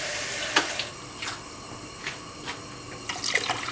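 Water is poured into a pot of potatoes in a home kitchen, making a few soft splashing bursts over a steady watery hiss, with no talking.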